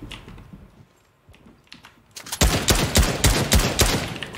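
In the Fortnite video game, a weapon fires a rapid burst of gunshots after a few scattered clicks, loud, close and rhythmic for about two seconds.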